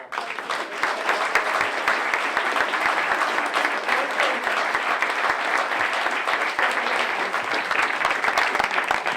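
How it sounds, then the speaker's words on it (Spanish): Sustained applause from a large audience at a lecture, dense and steady clapping at even loudness throughout, with no voices standing out. "Vamos a dar un aplauso."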